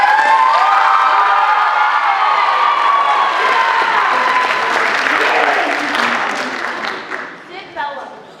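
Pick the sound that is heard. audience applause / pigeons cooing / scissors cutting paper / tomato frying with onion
audience applause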